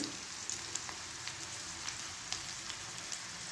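Onion and garlic paste frying in a hot pan with cooked potatoes, a soft, even, close sizzle with faint crackles throughout and no talk.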